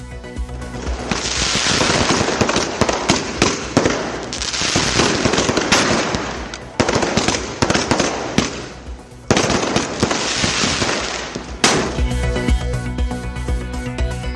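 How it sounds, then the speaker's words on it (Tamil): Diwali fireworks over Sivakasi, a rapid, loud barrage of crackling bursts and booms in sustained waves with brief pauses, rolling like machine-gun fire and echoing across the town. "வான வேடிக்கைகளால் வண்ணமயமாக மாறிய சிவகாசி நகரம்"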